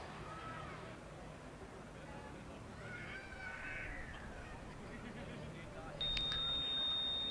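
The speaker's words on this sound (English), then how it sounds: "And I hear a beep" A short, thin electronic beep signals a driverless race car's launch at a Formula Student Germany acceleration event, sounding near the end over a low, steady background rumble, with some indistinct voices nearby.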